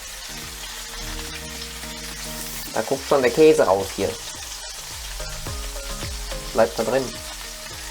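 Bifteki meat patties sizzle and crackle steadily in a hot pan, with clinks of a utensil against the pan and someone talking in German over the frying.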